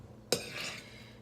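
A single sharp clink of a utensil against a bowl while cinnamon roll dough is mixed by hand, followed by a short, soft scraping and stirring sound close by, with no talking.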